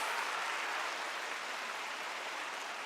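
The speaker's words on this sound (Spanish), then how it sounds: "Fuertes aplausos a Él." A church congregation applauds steadily, a dense even patter of clapping held at the same level throughout without pause.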